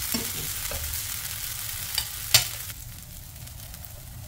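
A dosa fries in oil on a pan with a steady close sizzle and crackle, a couple of sharp pops midway, and the sizzle softening slightly toward the end, with no talking.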